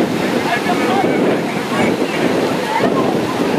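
Rough monsoon sea surf in Goa churning steadily, a continuous loud wash of breaking waves with wind buffeting the microphone throughout, no clear pauses.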